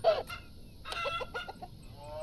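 Chickens in the farming game Farm Manager 2018 give a short run of clucks, one clear call at the start and then several quick, fairly close clucks spread over about two seconds with no talk.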